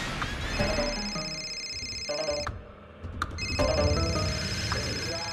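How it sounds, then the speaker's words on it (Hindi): A telephone rings with a repeating electronic ringtone over background music in a Hindi TV drama scene, the tone pausing briefly midway before resuming at moderate loudness. "नीलम का फोन"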